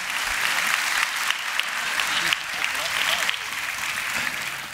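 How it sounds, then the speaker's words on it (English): A church audience applauds loudly and continuously, a dense wash of clapping from many hands filling the room, with faint voices mixed in. "Can we give them another round of applause?"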